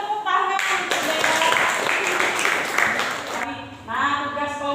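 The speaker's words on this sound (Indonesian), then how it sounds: "Beri tepuk tangan untuk Dea." Classroom clapping from students during an Indonesian language lesson, a steady patter of hands for a few seconds, with voices talking over it at the start and end.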